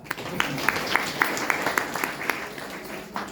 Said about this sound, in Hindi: इसकी ताली बजाओ